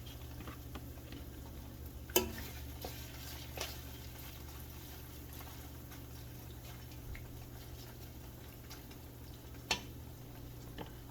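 Beef frying in a pot for stew gives a faint, steady sizzle, punctuated by a few sharp ticks and clicks, with no one talking.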